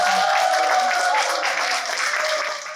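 Brief applause from the audience at a book concert, a close, dense burst of clapping lasting a few seconds, with a faint tonal undertone running beneath it before it tapers slightly at the end.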